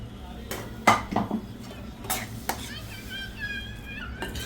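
A spoon stirs pigeon pea ghugri with added water in a metal pot, giving several clinks and scrapes against the pot early on, then softer sloshing and a faint sizzle.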